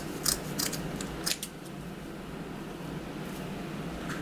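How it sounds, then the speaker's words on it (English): Scissors snip through the ends of craft ribbon at a diagonal, a couple of quick close cutting clicks early on, then a steady faint room hiss. "you just fold it in half, the fold at the top, open ends at the bottom, and cut at a diagonal, just like that."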